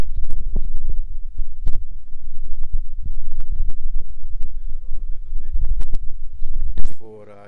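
A homemade U-core dynamo runs under a 5 watt light load, producing a loud, close, rhythmic throbbing of repeated low thumps that stops abruptly near the end, when a voice briefly speaks.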